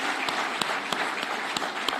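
An audience applauds athletes at the opening of Talanta Plaza, a dense steady clapping with a few sharper individual claps standing out over about two seconds.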